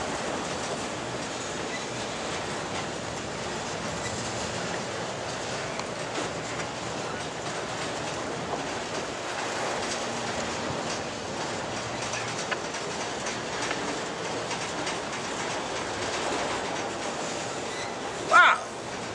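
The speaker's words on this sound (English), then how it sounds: "This is a long train." A long freight train rolls steadily past at Crewe yard, a continuous rumble with rhythmic wheel clatter, and a brief louder squeal or horn near the end.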